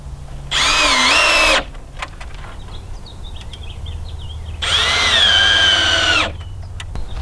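A power drill drives screws to fasten hinges onto a wooden hoophouse cold frame, in two loud whining bursts of about a second each separated by quieter handling noise, with faint birdsong in the background.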